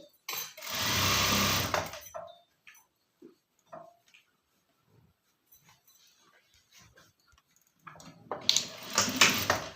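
A sewing machine stitches around a sleeve of a ready-made body-fitting top in two loud, close bursts, one near the start and one near the end, with quiet handling sounds and soft murmuring between them.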